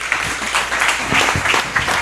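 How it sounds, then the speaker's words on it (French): Loud, dense applause from a seated audience honoring a young performer at a live stage show, a steady wash of many clapping hands lasting a couple of seconds with no break. "Est-ce qu'on peut applaudir très fort pour la jeunesse qui ose"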